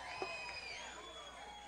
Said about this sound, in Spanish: Un aplauso a ustedes mismos